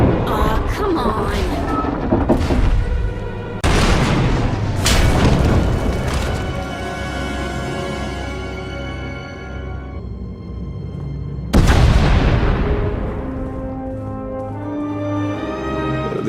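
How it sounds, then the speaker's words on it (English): Several deep, booming blasts hit in succession, each with a sharp onset and a long rumbling decay, layered with a dense, sustained game soundtrack. "We heard explosions."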